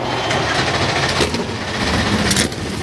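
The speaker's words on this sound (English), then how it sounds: "Drivers, start your engines." Several NASCAR Cup race car engines fire up together at Martinsville Speedway, a loud, dense mechanical roar that holds steady throughout amid crowd and broadcast ambience, with no voices.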